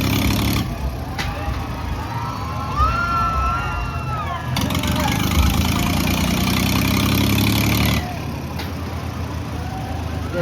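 A boat engine idles and runs at a festival boating ride, a steady mid-pitched motor drone that swells and drops in level partway through, fairly close, with no one speaking over it.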